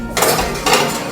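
A dish of potatoes is set into an electric oven for moussaka, giving two close, loud clattering clanks of cookware on metal, about half a second apart.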